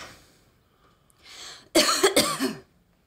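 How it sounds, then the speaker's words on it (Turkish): A person in a doctor's examination scene coughs: a faint breath, then a quieter cough, then two loud, close, harsh bursts in quick succession that trail off; no speech. "Öksür."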